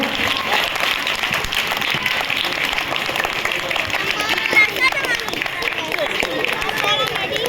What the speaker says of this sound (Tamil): ஒரு இன்னொரு வாட்டி ஒரு கரகோஷத்தை ப்ளீஸ் எல்லாரும் ஒரு பெரிய கிளாப் பண்ணுங்க.